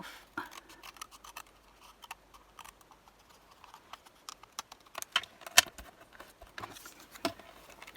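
Scissors snipping through card while making a framed Christmas card, a scattering of quiet, sharp cuts spread unevenly over the stretch with no voices.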